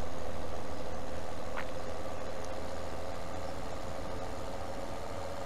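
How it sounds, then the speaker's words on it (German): Tractor engine in Farming Simulator 17 (Goldcrest Valley, PS4) idling steadily, a constant low rumble alone throughout with no talking. "aber wir machen das ordnungsgemäß mit dem Traktor."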